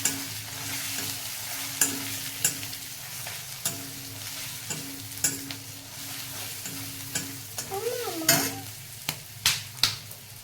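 Chicken with ground cumin and coriander stirred in a frying pan: steady sizzle punctuated by sharp, repeated clacks and scrapes of a spoon against the pan, loud and close, with no voices.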